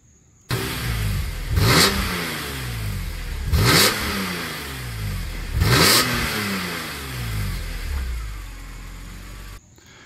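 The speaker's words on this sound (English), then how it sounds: "there you heard the stock exhaust after the car was warmed up in a couple of revs" A BMW E46 M3 with stock exhaust, warmed up, revs three times in a row, each surge climbing then dropping back to a steady idle, loud and close with no talking.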